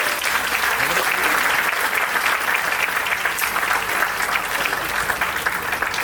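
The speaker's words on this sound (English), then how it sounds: "Let's give them a big round of applause once again." A big round of audience applause for achievers, parents and mentors at a school graduation ceremony; dense, loud, sustained crowd clapping that continues evenly for several seconds.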